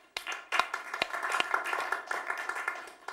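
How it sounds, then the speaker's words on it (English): A studio audience at a late-night comedy show claps for the announcer, Max Williams, in a modest burst of scattered hand claps that starts after a brief pause and keeps an uneven patter. "let's just give some polite applause for Max Williams"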